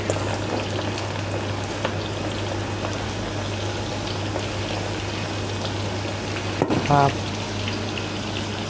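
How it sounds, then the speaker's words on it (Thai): Mushrooms tipped into hot oil hiss in a loud, steady fry, with a brief clatter and burst of bubbling near the end as more goes into the pan. "เปิดไฟขึ้นเทเห็ดลงครับผม"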